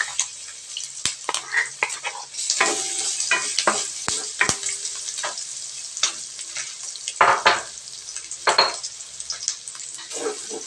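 Garlic dropped into a hot pan beside browned pork for pancit guisado sizzles loudly while a utensil scrapes and clatters in bursts of stirring, up close.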